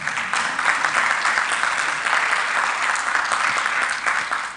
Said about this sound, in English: Shall we clap for them once again?